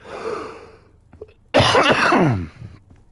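A man coughs harshly in a single strong burst after some quieter throat sounds and breathing, loud and close, then trails off.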